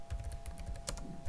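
Quick, even keystrokes on a computer keyboard as a command is typed at a terminal prompt, with about a dozen close, crisp clicks in a steady rhythm and one slightly louder tap near the end. No voice is heard.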